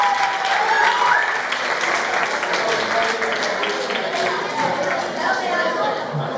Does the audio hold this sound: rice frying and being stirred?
no